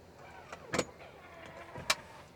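Power release mechanism on a third-row seat in a 2023 Chevy Tahoe High Country, a couple of short, close mechanical clunks and a brief whir inside the quiet cabin.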